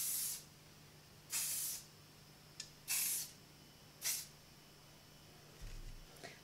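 Kenra 25 hairspray for curly hair misted underneath a short fine bob in a series of about five short hissing aerosol bursts, spaced irregularly and close, with quiet pauses between.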